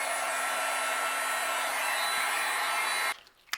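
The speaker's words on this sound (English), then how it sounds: "I'm going to heat up my heat gun and we'll melt all of these." A heat gun blows loud and close in a steady continuous rush while melting gold embossing powder, then cuts off abruptly, leaving a brief soft tail.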